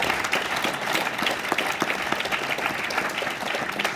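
An audience breaks into steady, dense applause, many hands clapping together at moderate volume throughout without any pause.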